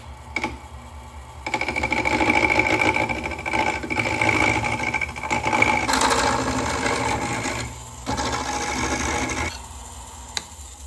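A wood lathe fitted with a Nova G3 chuck runs while a gouge cuts into the spinning wood, giving a steady motor whine with rough scraping and chattering that rises and drops as the tool engages, close and without talk.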